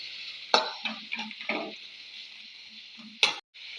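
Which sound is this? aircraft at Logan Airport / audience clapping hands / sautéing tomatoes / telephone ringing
sautéing tomatoes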